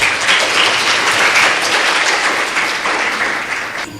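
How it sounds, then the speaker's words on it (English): An audience at an inter-school education competition claps warmly as a guest takes the stage, a full, dense round of applause that stays strong for a few seconds and then tapers off toward the end. "Please join me in giving him a warm round of applause as he takes the stage."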